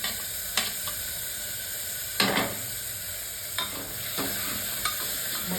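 Tomatoes stir-fry in a khichdi pan with a steady sizzle, while a spoon scrapes and clacks against the pan several times at an irregular pace, close and fairly loud.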